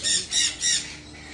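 A large hand-fed pet bird named Big Bird gives three harsh, high squawks in quick succession close by, followed by a brief quiet tail.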